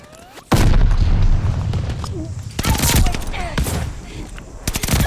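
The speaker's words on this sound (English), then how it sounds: "Incoming grenade." Gunfire and a loud grenade blast in a Call of Duty match: a sudden heavy boom opens the sound, followed by rattling bursts and scattered shots, with brief talk underneath.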